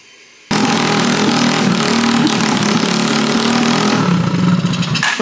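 A Condor RPS 150 China mini bike engine starts abruptly and runs at a high, steady buzzing idle around 5,500 rpm, loud and close, with a slight dip near the end.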